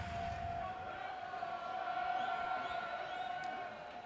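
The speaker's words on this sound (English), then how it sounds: "Crowd getting into it here in York" Baseball crowd at a York Revolution home playoff game in York, a steady broad roar and cheer sustained throughout, with a faint tonal hum riding above it.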